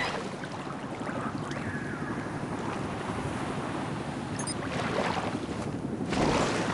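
Steady beach surf and gusting wind wash across a shoreline in the Crysis video game, a continuous broadband roar that swells slightly louder toward the end, with no voices.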